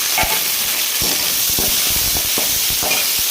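Onion and tomato sautéing in a pan for a country chicken curry, a steady close sizzle and hiss with repeated soft scraping stirs throughout, no voices.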